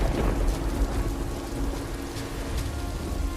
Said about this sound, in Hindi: बारिश अब पहले से कहीं ज्यादा तेज हो चुकी थी